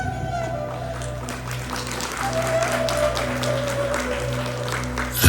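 A crowd at a local holiday gathering in Yuqori Chirchiq district applauds steadily throughout, the clapping mixed with a sustained musical hum and tones underneath.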